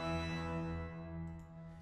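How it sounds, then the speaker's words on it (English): A low bass part from a musical score holds deep sustained tones with shifting notes, steady and alone, fading slightly toward the end. "Then we have our bass."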